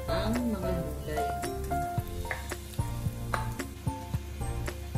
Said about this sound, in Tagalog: Igigisa natin siya ng 5 minutes para sigurado tayong malambot na ang ating pork